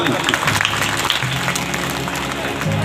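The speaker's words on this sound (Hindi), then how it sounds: "ठोको ताली" An audience at a Shrimad Bhagwat Katha religious gathering in Haripura, Punjab, claps together. Dense, loud applause runs throughout and fills the hall, with some voices underneath.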